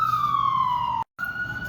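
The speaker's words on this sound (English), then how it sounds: "sorry, New York, ambulance everywhere." An ambulance siren in New York wails loud and close, its tone sliding downward before a brief cut, then resuming at a higher pitch.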